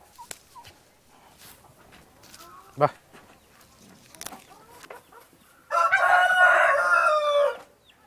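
Chickens cluck and a rooster crows loudly near the end on a farm raising goats, cattle and poultry together, with a few sharp knocks and soft speech earlier in the clip.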